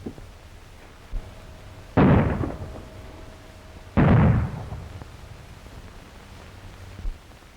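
Two loud, booming gunshots about two seconds apart in a 1930s western shootout, each ringing out with a fading echo, plus faint smaller pops between, with no talking.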